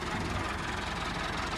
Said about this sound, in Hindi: तो थ्रैशर मशीन तैयार किया जा रहा है